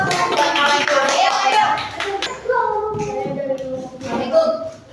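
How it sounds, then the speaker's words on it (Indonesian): A primary school class clapping hands in a science lesson, with bursts of claps mixed with children's and a teacher's voices talking over them throughout. "Oke, tepuk tangan."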